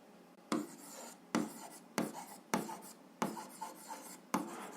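Pen strokes scratch across paper while an algebra equation is written out, a series of about seven quick, close scribbling bursts in an irregular rhythm, quiet and with no talk.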